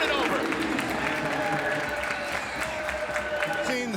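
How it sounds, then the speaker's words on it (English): Rapid clapping from a football team's sideline during a Howard at Northwestern college game, blending with steady crowd noise under continuous commentary. "Howard's sideline rapidly clapping"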